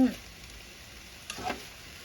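Fermented pork sausage (naem) stir-fried in a pan, a soft low sizzle throughout with a short scrape and stir of the utensil near the end, close and quiet.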